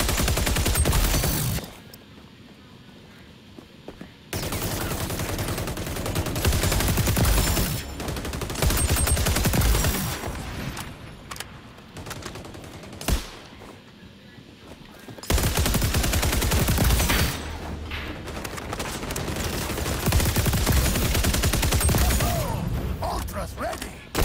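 DMR rifle fire in an XDefiant multiplayer match, repeated loud shots in dense stretches broken by quieter pauses, mixed with other game sounds and voices.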